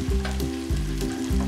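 Chicken frying with caramelized onions in a pan for biryani, steady loud sizzle with a rhythmic scraping stir repeating about every half second, close and alone.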